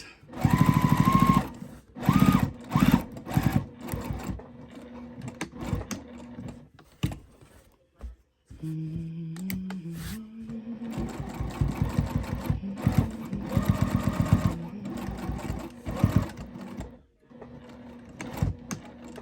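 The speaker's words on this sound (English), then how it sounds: "I like to go in just a couple stitches and back stitch to secure that pocket" A sewing machine stitches a pocket onto a tote bag in several bursts of rapid, rhythmic mechanical whirring, stopping and restarting with short pauses between runs, close by and with no talking.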